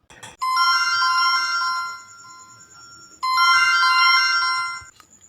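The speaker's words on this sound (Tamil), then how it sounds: "என்னது, அண்ணன்கிட்ட ஃபோன் வருது." A phone ringtone plays for an incoming call: a bright, loud electronic melody in two bursts, the second starting after a short drop. No one speaks.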